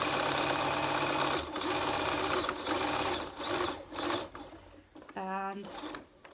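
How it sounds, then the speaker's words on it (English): Sewing machine running in bursts while back stitching a cloth face mask, a steady mechanical whir that stops and restarts, ending with a short rapid stitching run near the close. "And back stitch when we get to the end."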